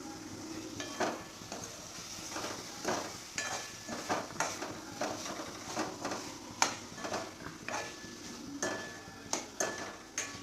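Paneer stirred into roasted spice masala in a pan for paneer tikka masala, with repeated scraping and clinking strokes of a spoon against the pan over a soft sizzle, steady and close.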